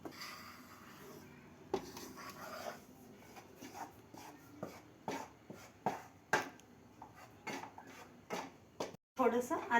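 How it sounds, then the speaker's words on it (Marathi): Besan (gram flour) being dry-roasted in a pan for ghee besan laddoos, with a spatula scraping and clinking against the metal in irregular strokes, some close and sharp, over a faint background hum. "चला मग आपण पीठ भाजून घेऊया."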